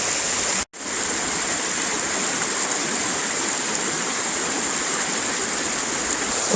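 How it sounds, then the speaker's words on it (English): A stream runs over rocks in a steady, full rush of water close by, with a brief dropout near the start before the continuous flow resumes alone. "use that leading line of the moving water to go through the image"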